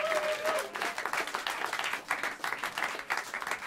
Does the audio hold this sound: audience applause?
yes